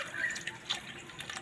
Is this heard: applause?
no